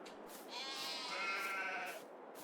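Sheep in Farming Simulator 22 bleat in a drawn-out, wavering cry that swells for about a second and a half, clear and fairly close, with no talking over it.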